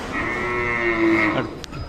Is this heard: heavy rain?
no